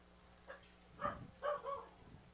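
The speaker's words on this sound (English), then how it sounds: "The dogs are barking at each other, actually." Faint barks and yips from dogs barking at each other at a college baseball game, a few short bursts at a distance over the quiet ballpark background.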